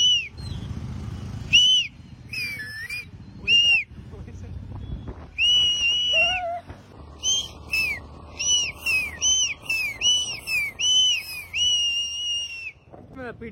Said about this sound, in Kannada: ಸೀಟಿ ಹೊಡ್ಲೇ ಬರ್ರಿ ಅಂತ ಹೇಳಿ ಈಗ ಹೊಡಿ.